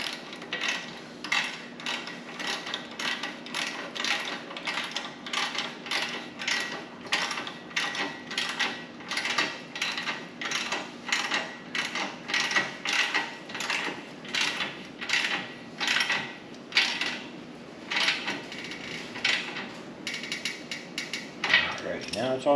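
A ratchet wrench with a 9/16 socket tightens a Harley Ultra Limited exhaust bolt, giving a close, steady run of quick clicking ratchet strokes in a regular rhythm for the whole stretch.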